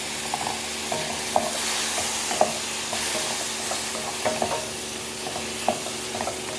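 Onions and tomatoes frying in camel fat for marag laham, a steady close sizzle with occasional stirring scrapes and clicks of a utensil against the pan.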